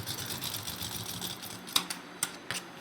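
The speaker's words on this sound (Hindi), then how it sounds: "और एक बार हम सिलाई इधर की साइड लगा देंगे डबल करके।" A sewing machine stitches a seam on men's underwear, running in a steady, loud rhythmic whir that then breaks into a few sharp mechanical clacks and short bursts, with no voices.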